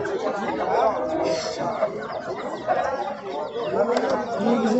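Roosters cluck and call amid a busy rooster market, with crowd chatter and nearby voices talking over the birds throughout.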